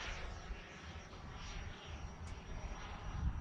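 XFly Sirius radio-control jet airborne just after takeoff, a faint steady whine and rushing hum of the small jet passing at a distance, with wind noise and no talk.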